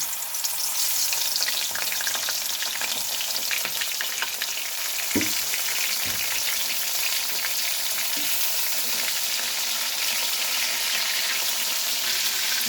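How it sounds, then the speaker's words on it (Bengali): Turmeric-and-salt-coated prawns fry in hot oil with a constant sizzling crackle, broken by a few soft knocks from stirring, at a moderate level with no voices. "এবার আমি চিংড়ি মাছগুলোকে ভেজে নেব।"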